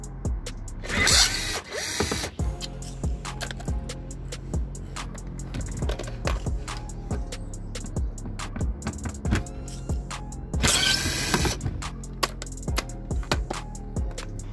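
A power drill with a T25 bit undoes screws on an MK5 Golf 1.6 FSI in repeated short bursts with rapid clicking and ratcheting, interrupted by two louder whirring spells, close and mechanical throughout.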